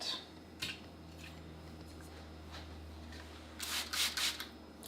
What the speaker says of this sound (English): I am sharpening 8 knives.